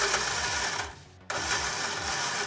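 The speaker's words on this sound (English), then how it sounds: "And just give that a blitz." A kitchen blender whirs as it blends frozen mango with coconut water and a splash of lime cordial, a steady loud motor drone that dips briefly mid-burst before surging back up.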